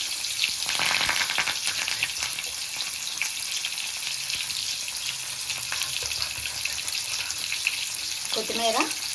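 Coriander leaves fry in a hot pan, giving a continuous bright sizzle with crackles and occasional stirring scrapes; a voice speaks briefly near the end over the frying.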